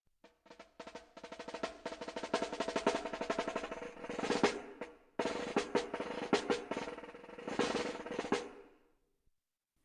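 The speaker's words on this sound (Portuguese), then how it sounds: "Caixa." A snare drum played in a busy, sustained pattern with dense rolls and crisp hits, pausing briefly midway before continuing and then stopping.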